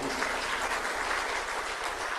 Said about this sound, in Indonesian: Tepuk tangan untuk beliau sekali lagi.